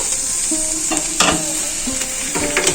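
Lightly fried vegetables tipped into a hot wok sizzle steadily while a spatula scrapes and stirs in several quick strokes; close and continuous, no voices.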